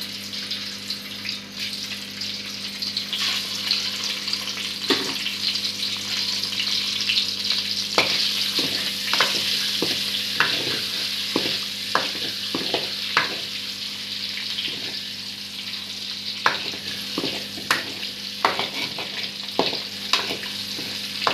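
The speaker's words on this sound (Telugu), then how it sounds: "ఎగ్స్ వేయించేసుకుందామండి" Eggs fry in a pan for a paneer egg masala curry, giving a steady close sizzle broken by scattered sharp pops and crackles throughout, with no talking.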